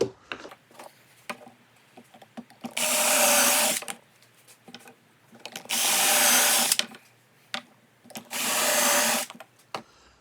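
A power drill bores pocket holes into a wooden cornhole board frame, three loud whirring bursts of about a second each separated by pauses with small clicks and handling noises, close by.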